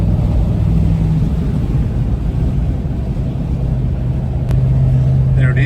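A Hyundai XL car drives on the freeway, a loud, steady road and engine roar from inside the cabin with a constant drone and no letup.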